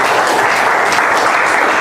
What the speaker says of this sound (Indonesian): Kasih tepuk tangan dulu buat temannya ya